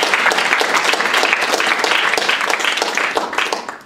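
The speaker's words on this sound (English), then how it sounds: "I think we should give our panelists a round of applause" Loud, steady applause from a panel-discussion audience, dense overlapping clapping that holds for several seconds before starting to fade at the end.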